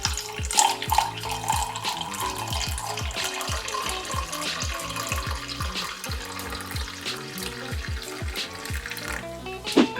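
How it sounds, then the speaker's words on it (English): Freshly brewed plain black coffee pours in a home kitchen, a continuous liquid trickle and splash with light clinks, moderately quiet and close throughout, with no talk. "Our coffee is also done, so we can finally pour that."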